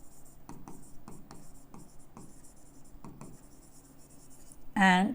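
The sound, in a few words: writing on paper during accounting lesson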